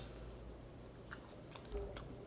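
Someone quietly chews a soft Polar smoked sardine with its bones intact, producing faint wet squishy mouth sounds with no crunch, close and alone.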